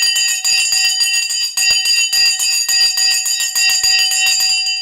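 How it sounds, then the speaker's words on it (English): Stock market opening bell ringing continuously, loud and close, a steady metallic electric ringing that holds at the same level throughout with only brief small dips. "The bell has now gone"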